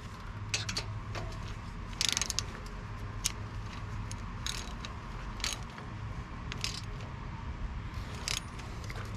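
A metric wrench ratchets in short clicking bursts while breather bolts are tightened on a Harley-Davidson Road Glide Special, close and fairly quiet over a steady low hum, with no talking.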